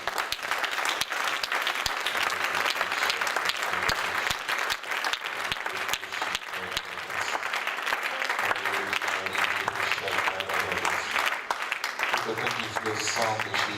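A congregation applauds at a prayer service, a dense, steady wash of clapping that runs the whole time, with voices and music layered over it.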